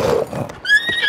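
A horse in the video game The Legend of Zelda: Breath of the Wild gives a short, loud whinny, rising and wavering near the end, preceded by soft hoof and game noises.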